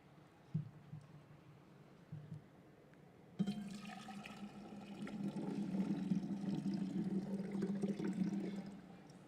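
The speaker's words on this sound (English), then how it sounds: "we invite you to pour your water into the vase in front of you" Water poured from glasses into a vase during a gathering's opening ceremony, starting with a few faint splashes and then swelling into a steady, continuous rush of pouring that slowly fades.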